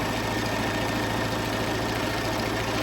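A sewing machine stitches all the way around a reversible ironing board cover, giving a steady, continuous mechanical hum with fast regular needle pulsing, loud and close, with no talk.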